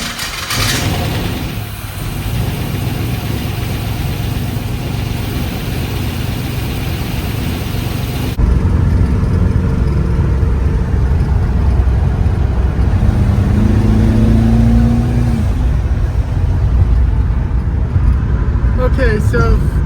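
A Ford Fairmont with a twin-turbo 4.8 engine on a badly tuned first drive, giving a loud continuous engine drone that lifts in pitch partway through, with a voice talking over it.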